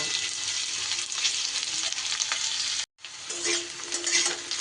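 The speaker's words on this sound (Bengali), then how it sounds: "তেল খুব ভালো করে গরম হয়ে গেলে এবার আমি কেটে রাখা আলুগুলোকে ভেজে নেব" Cut potatoes frying in very hot oil, a loud dense continuous sizzle that cuts out for an instant and then resumes just as strongly.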